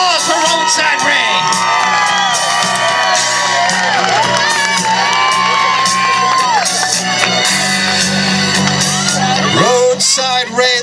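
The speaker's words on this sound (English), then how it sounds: "Big round of applause for Roadside Ray." A loud crowd at an eating contest cheers, whoops and shouts continuously over background music, with voices mixed into the din throughout.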